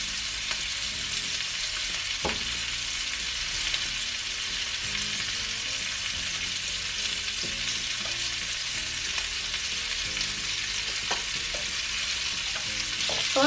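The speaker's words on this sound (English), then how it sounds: "So I am breaking up the meat a little bit, but I want to get that nice browning on there." Sausage meat browning in a frying pan, a constant loud sizzle with scattered taps and scrapes as the meat is broken up, no speech.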